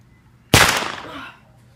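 A single loud, sharp gunshot fired at a rope cracks close by and then decays over most of a second, with no talk over it.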